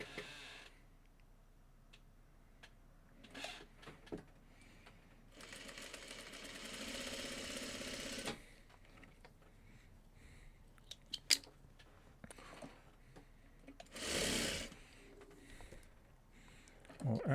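A sewing machine stitches a Farmer's Wife quilt block, making one steady run of a couple of seconds amid quieter handling noises and shuffling, with short rustles and clicks around it.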